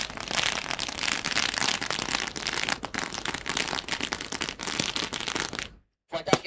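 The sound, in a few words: firecrackers bursting at a cricket tournament welcome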